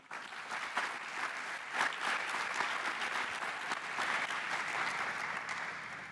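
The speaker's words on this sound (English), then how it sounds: "Round of applause." A room full of people breaks into a sustained round of applause at a national debate championship ceremony, steady and moderately distant, with no talking over it.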